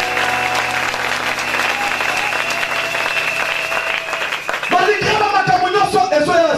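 Congregation applauding during a church worship service, steady dense clapping that shifts to a livelier, more rhythmic burst near the end, with a voice faintly underneath.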